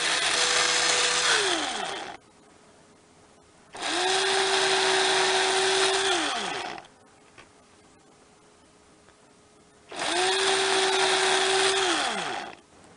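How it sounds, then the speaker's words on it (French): A small power drill fitted with a 1 mm bit pierces baked polymer clay beads in three separate bursts, each a loud, steady whine that rises as the motor starts and falls away as it stops, with quiet pauses between. "perceuse avec un petit forêt d'1 millimètre et un pinceau"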